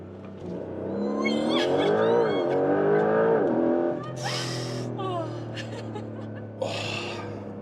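A Porsche 911 GTS hybrid sports car on the road, its engine note rising and falling through gear changes, heard from inside the car under people chatting and laughing.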